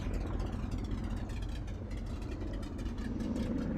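Steady, continuous twin-engine drone of a Beechcraft D18 Volpar in a flight simulator, with a low rumbling hum and faint higher whine, holding constant throughout without any talking.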